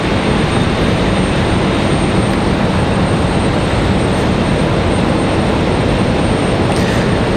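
A Southwest Boeing 737-700 airliner taxis and turns at stormy Raleigh-Durham airport, producing a loud, steady, dense engine rumble that stays constant throughout with no break, heard from fairly close.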